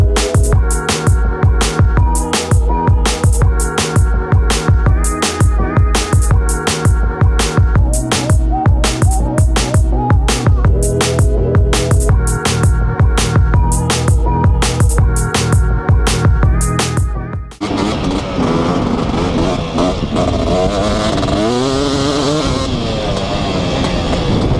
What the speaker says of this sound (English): Enjoy this nice, relaxing edit while we warm up the bikes.